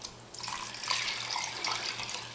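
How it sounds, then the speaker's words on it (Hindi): Water runs into a cooking pot, five cups added for mutton yakhni pulao, a continuous splashing, trickling stream at moderate volume with no talking over it. "5 कप पानी डाल दिया इसमें,"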